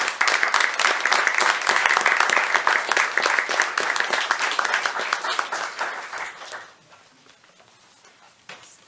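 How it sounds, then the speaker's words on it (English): A city council meeting audience applauds with dense, sustained clapping for several seconds, then the applause fades out quickly, leaving faint room noise. "Let's give them a round of applause."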